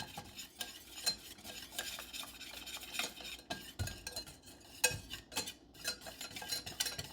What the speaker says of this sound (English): we're just going to whisk this all together